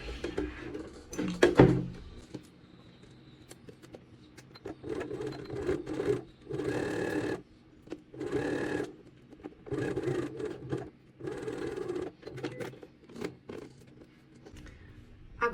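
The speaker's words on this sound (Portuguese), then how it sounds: "agora eu vou passar aqui na máquina 1 centímetro de costura" A sewing machine stitches a seam on tailored trousers in short bursts of rapid whirring, about eight runs separated by brief pauses, with light fabric rustling between them.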